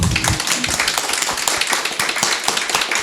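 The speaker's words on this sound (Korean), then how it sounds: "여러분들 박수 한번 쳐주시죠." An audience at a Korean logistics panel discussion gives a short burst of clapping, with distinct individual claps close by at an uneven rhythm.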